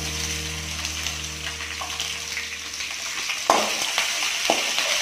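Onions and chillies sizzle in a hot pan, a constant hiss broken by a few stirring scrapes toward the end.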